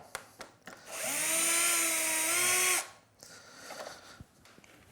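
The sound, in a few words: power screwdriver removing existing door strike plate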